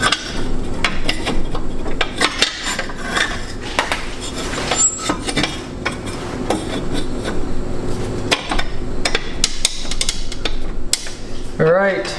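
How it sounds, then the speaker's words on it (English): Continuous metallic clanking and ratcheting as a wrench rocks the seized engine of an Edsel abandoned for 56 years back and forth, dense irregular knocks and scrapes sounding close and steady throughout. "we got a good wrench to rock it back and forth"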